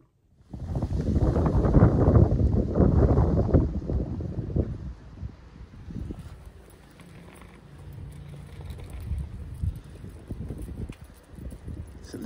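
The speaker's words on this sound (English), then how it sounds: "It's a little bit windy today." Wind buffets the microphone in heavy gusts, loud at first and then easing into a lighter, uneven rumble.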